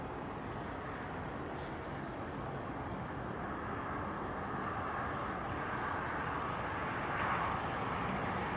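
A Titan Airways airliner at Newcastle Airport makes a steady, broad engine roar. The sound is moderately distant and holds even throughout, swelling only slightly near the end, with no voices.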